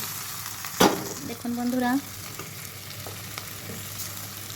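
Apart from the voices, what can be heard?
potatoes and paneer sautéing in a pan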